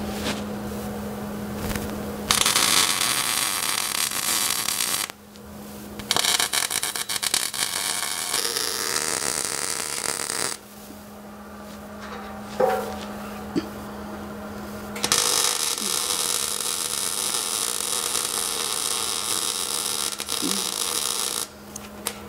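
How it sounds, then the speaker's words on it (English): Steel legs are welded with a torch onto a steel aquarium stand, producing several long, loud bursts of harsh crackling hiss separated by short pauses, over a low steady hum, close by with no talk. "so I'm gonna go ahead and weld it in place"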